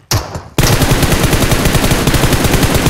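Rapid automatic gunfire in PUBG Mobile, a brief burst then, after a short gap, a long sustained stream of loud, evenly spaced shots filling the rest of the moment.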